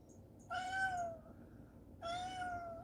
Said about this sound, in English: Hear my cat, she's not happy.